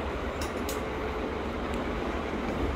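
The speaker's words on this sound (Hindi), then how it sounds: "मेट्रो आ रही है, ये देखिए मेट्रो यहाँ से कैसे जाती है नीचे से" A metro train passes below an apartment, a steady broadband rumble with rail clatter filling the whole stretch at an even, moderately loud level, with no talking.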